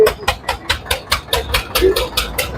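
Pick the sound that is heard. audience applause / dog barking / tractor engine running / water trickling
tractor engine running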